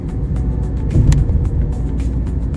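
A car passing on a road in India during a family road trip, with steady close engine and tyre rumble that swells briefly as the vehicle goes by, other traffic continuing underneath.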